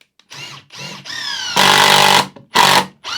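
A brushless 18V Ryobi impact driver runs in short, loud bursts, each a whining motor buzz, the last two swelling into a harsh, rapid hammering rattle, with brief gaps between and no one talking.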